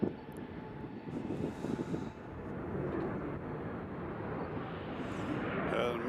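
A large aircraft taxiing at Nashville airport on a windy day, its engines a steady, moderately distant rumble and whine under wind noise.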